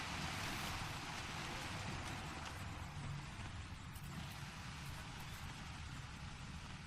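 Steady broadband rush of falling water from a waterfall in a pirate-themed adventure game, a constant dense wash holding level throughout with no voices.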